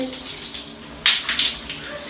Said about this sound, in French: Maman se douche.